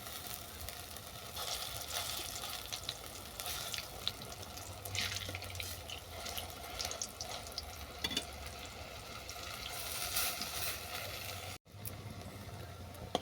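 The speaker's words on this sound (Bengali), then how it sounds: "বড়ার এক পিঠ ভাজা হয়ে গেছে" Cauliflower stalk fritters keep frying in oil until one side browns: a steady, soft, hissing sizzle holds for the whole stretch, broken once by a brief dropout near the end.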